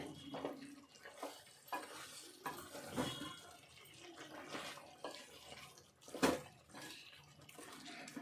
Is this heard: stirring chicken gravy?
yes